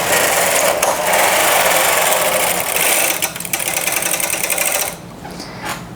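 Machine knitting carriage sliding across a row of needles on a drop-shoulder sweater, a steady loud rasping whir lasting several seconds close up before it stops.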